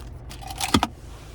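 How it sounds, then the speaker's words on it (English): A car key fob with remote start for a 2025 Chevy Malibu LS jangles briefly up close, a quick cluster of small metallic clinks lasting under a second. "here is our key fob with remote start"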